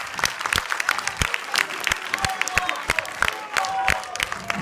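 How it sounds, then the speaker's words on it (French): Audience applause breaks out at a comedy debate, with sharp individual claps standing out over a busy crowd wash and a little cheering, all at a steady level throughout. "Faut applaudir."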